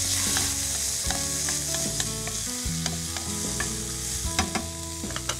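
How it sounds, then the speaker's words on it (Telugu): Chopped beetroot, carrot and other colourful vegetables sizzle steadily in a hot pan while a spoon scrapes and stirs them with soft, uneven clinks up close, with no voices. "ఇది ఒక్కసారి చక్కగా వేయించేసుకోవాలి"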